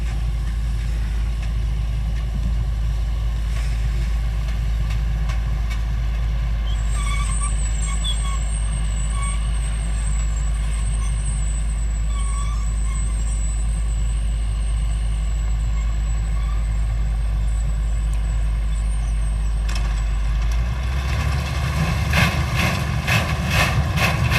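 Sugarcane harvester running in a cane field, a steady loud engine rumble and mechanical drone throughout, with a high whine layered over the middle and a shift in the machine's note near the end.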